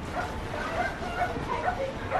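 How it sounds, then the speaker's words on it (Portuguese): A dog barks and yips repeatedly in short, high bursts amid a steady wash of background noise and faint crowd chatter, during Halloween trick-or-treating in the US. "tem um cachorro latindo"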